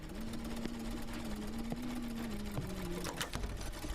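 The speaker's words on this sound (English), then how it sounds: "I heard the sewing machine stop for a sec." A sewing machine in a video game whirs steadily on its own, a continuous mechanical drone with faint ticks and no talk.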